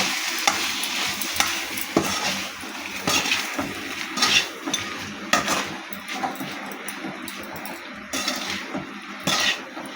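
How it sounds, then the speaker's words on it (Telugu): A spoon stirs a tiger prawn fry with chilli powder and green chillies in a pan, giving repeated scraping strokes over a steady sizzle, close and fairly loud throughout. "దీన్ని బాగా తిప్పుకుంటూ కలపెట్టుకుంటూ ఉడికించుకోవాలి"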